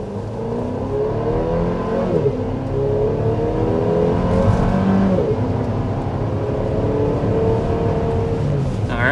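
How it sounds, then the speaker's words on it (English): A 2025 Chevy Traverse family SUV under hard acceleration to 60 mph, a steady engine drone rising in pitch through gear changes, heard from inside the cabin. "That's an acceleration to 60 miles per hour."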